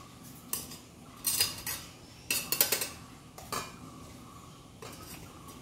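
Grated coconut is spooned into a metal puttu steamer tube, with several sharp metallic clinks and scrapes in irregular bursts, close and fairly quiet, separated by soft pauses and no talk.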